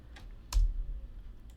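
Computer mouse clicks while navigating a community forum page on a desktop, heard as a couple of crisp, close clicks against a quiet room hum with no talking.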